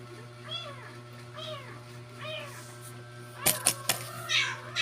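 A kitten meows several times in short rising calls, tucked inside a helmet, over a steady low hum, followed by a few sharp knocks and rustles near the end.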